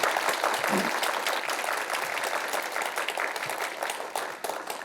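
Applause at a policy forum on drafting a future-strategy ordinance, honoring council member Kim Dong-wook; steady, dense clapping from an indoor audience holds for about five seconds, tapering slightly near the end.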